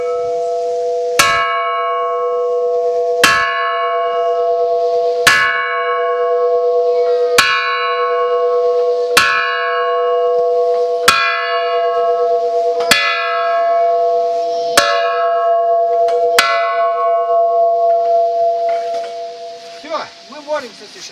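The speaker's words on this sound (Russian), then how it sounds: "Он сейчас будет бить 10 раз колокол." A church bell at an outdoor camp is struck slowly about ten times, each loud, close clang followed by a long humming ring that carries into the next blow.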